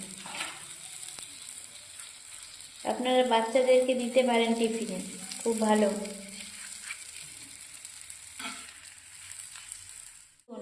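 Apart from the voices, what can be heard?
cheese paneer masala roti frying in butter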